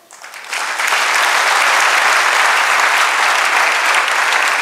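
An audience at a spiritual seminar applauds a spiritual teacher, a loud, dense burst of clapping from a large crowd that swells quickly and holds steady without letup.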